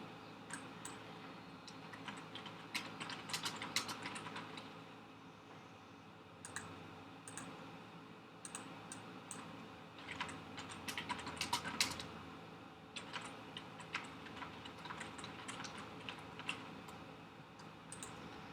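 Typing a form name on a computer keyboard, a quiet run of rapid key clicks in irregular bursts with short pauses, close and without talk.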